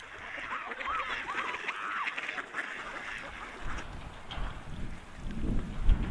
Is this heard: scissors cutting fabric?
no